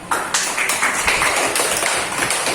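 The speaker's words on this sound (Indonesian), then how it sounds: "Silakan beri aplaus untuk kelompok 3." Applause from a classroom audience for a group's presentation: a dense, steady burst of many hands clapping at close range, lasting a couple of seconds with no talk over it.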